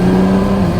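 A BMW with an N54 engine accelerates under throttle in manual mode, giving a steady, loud engine drone with a strong low tone throughout a brief moment.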